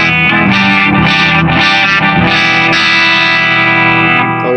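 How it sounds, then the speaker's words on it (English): An electric guitar played through a clean amp tone set near breakup, with delay and reverb, ringing sustained chords that swell and overlap in a loud wash of repeats. "my clean sound, well, plus the delay and reverb,"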